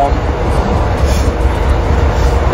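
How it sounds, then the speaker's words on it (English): A passenger train in England rumbles steadily from inside the carriage: loud, continuous wheel and track roar with deep low rumbling and no distinct clacks. "I'm now on the train again for another hour."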